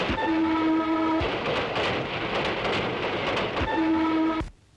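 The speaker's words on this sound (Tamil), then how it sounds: "ரயிலு." A train rolls past with steady clattering wagons, its horn blaring loudly at the start and again near the end before the sound cuts off abruptly.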